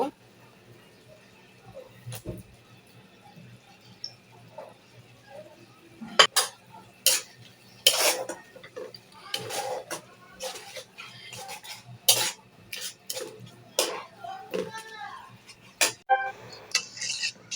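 Spices for beef are stirred in a pot with a metal utensil, giving sharp scraping clinks and knocks that come in irregular bursts, close and fairly loud, over a faint low hum.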